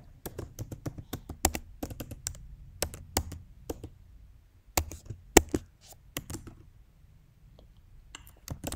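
Fingers type a root password on a computer keyboard in short, irregular bursts of crisp, close clicks separated by quiet pauses.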